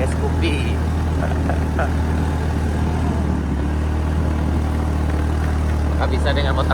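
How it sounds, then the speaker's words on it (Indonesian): A 2019 Honda Scoopy scooter climbs a hill on a mountain road, its engine a steady low drone running continuously beneath close, ongoing talk from the rider. "kita nanjak nih pakai Scoopy"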